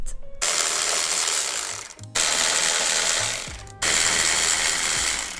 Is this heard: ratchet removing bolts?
yes